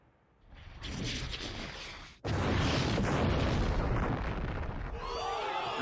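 A bombing explosion in an anime episode: a rumbling build-up breaks into a sudden massive boom, followed by a loud sustained roar of debris and fire, with a faint high tone near the end.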